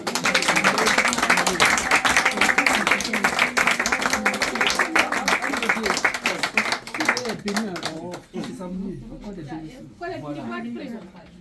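Church congregation applauding and acclaiming the Lord at a Paris dowry ceremony: dense, sustained clapping and cheering for about eight seconds with voices mixed in, then thinning out as talking continues.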